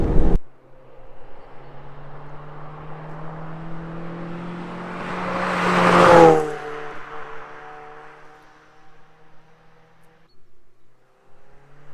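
A Mazda MX-5 Miata approaches and sweeps past, its engine note rising to a loud peak before fading into the distance, with no talking.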